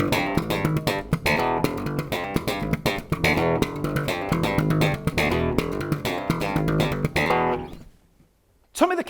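A slap-style bass riff, a dense, loud, percussive run of rapid popped and slapped notes that stops abruptly near the end, followed by a brief final hit.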